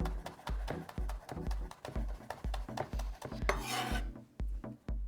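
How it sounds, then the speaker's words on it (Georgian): Two garlic cloves being finely chopped with a knife on a board for a pizza sauce, a fast run of close, crisp chopping taps alone with no talk. "2 კბილი ნიორით წვრილად დავჭრათ"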